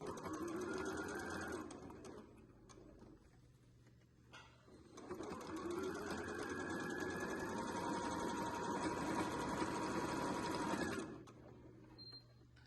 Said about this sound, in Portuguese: Essa costurinha aqui é só pra segurar o forro lá embaixo